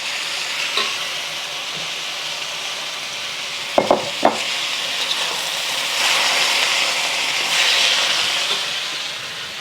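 Beef and its juices sizzle steadily in a hot stir-fry pan for Thai basil beef, a broad continuous hiss that swells louder toward the end, broken by a few sharp clinks of a utensil near the middle.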